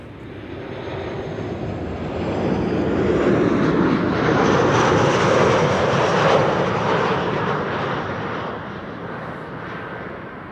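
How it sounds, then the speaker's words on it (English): A widebody airliner arriving from Rio de Janeiro on a frosty, sunny winter morning at Amsterdam Schiphol. Its engine roar builds steadily, holds loud through the middle, then slowly fades, with no voices. "Looks like the first next widebody is approaching Rotterdam and is arriving"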